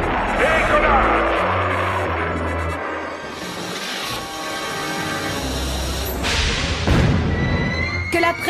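A cartoon air-pressure rocket lifts off in a loud, swelling whoosh with thumps, set against a continuous dense backdrop of music and effects, and a voice is also present.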